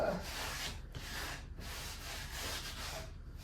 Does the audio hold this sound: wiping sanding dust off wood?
yes